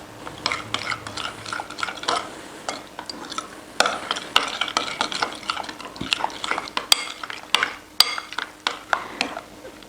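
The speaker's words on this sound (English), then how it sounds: "Just going to mix it now" Olive oil being mixed into a baked cauliflower and fried mushroom dish with tahini and yogurt, close rhythmic scrapes and clinks of a utensil against the bowl, repeated steadily and fairly loud, with no talking.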